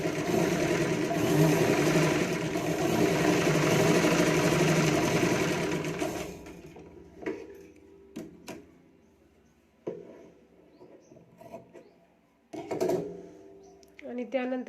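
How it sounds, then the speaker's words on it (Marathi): Sewing machine stitching the folded lining of a katori blouse, a steady close mechanical whir for about six seconds, then quiet handling clicks and rustles. "असं अस्तर आतमध्ये फोल्ड करून वरतून फिनिशिंग टिप टाकत घ्यायचं आहे"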